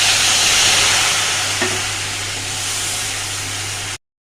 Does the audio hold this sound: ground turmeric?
yes